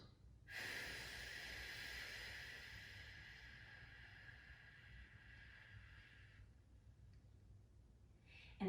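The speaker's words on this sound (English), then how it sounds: "we'll inhale on a 5 count, in through the nose, into the belly" A single long, soft inhalation through the nose during a slow breathing exercise, a steady airy hiss lasting several seconds, close and quiet, with no talking.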